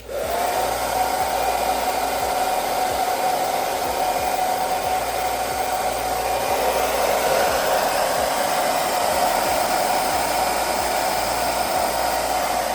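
A 2.4 kW salon hair dryer powered by a portable power station runs steadily at full blast throughout, a loud continuous whooshing whine with no pauses and no voices.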